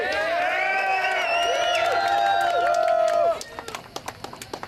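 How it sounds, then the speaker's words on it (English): An outdoor crowd at a Calgary marijuana march cheers and whoops loudly with overlapping voices for a few seconds, then cuts off into scattered claps and faint chatter. "I'd like to give a cheer to him for being the anonymous donor."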